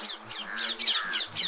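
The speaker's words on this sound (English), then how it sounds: "sometimes you hear the parrots" Parrots in Vrindavan squawk in a run of harsh, raspy calls, roughly five or six bursts in quick succession, fairly close and loud with no voices.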